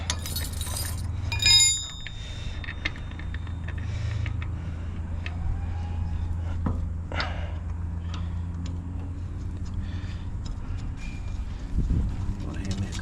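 Metal wheel nuts clink and tick as they go onto a van wheel during a flat tyre change, with sharp small metallic taps scattered over a low background hum, while people talk nearby.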